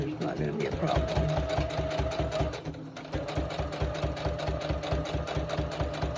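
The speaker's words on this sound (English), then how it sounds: "I'm just gonna do straight stitching." A sewing machine runs steadily, straight stitching quilt strips onto batting in a quilt-as-you-go project, its rapid, even needle rhythm loud and close throughout.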